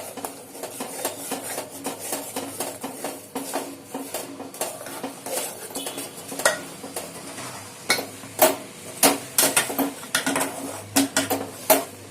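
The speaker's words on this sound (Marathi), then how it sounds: "गॅस बारीक करून थोडंसं पीठ तांदळाचं घालून घ्यायचं त्यात" Rice flour for ukadiche modak being stirred into boiling water in a pot, with sharp metallic clinks and scrapes of a spoon against the pan, irregular and growing busier toward the end, no talk.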